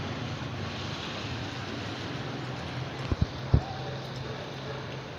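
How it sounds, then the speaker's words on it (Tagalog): Heavy overnight rain during Typhoon Enting in the Philippines: a steady, dense hiss of rain and wind that continues throughout, with a few brief knocks near the end. "Nagdamag ang ulan."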